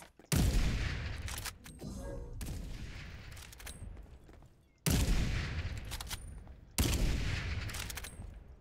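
Video game gunfire comes in several loud, sudden bursts of shots, each cutting in sharply and then trailing off into a noisy tail before the next volley.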